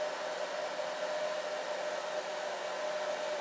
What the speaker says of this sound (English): just turn the hairdryer on the lowest setting